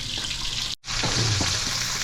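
Steady hissing sizzle of salmon frying in a pan, with a brief dropout and a low clatter midway.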